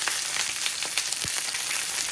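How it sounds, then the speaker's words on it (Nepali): Onions sizzle in a pan for fish curry with a steady, close, crackling hiss. Small pops and stirring sounds break through, and no one speaks. "प्याज पनि हालेर यसो भुट्ने।"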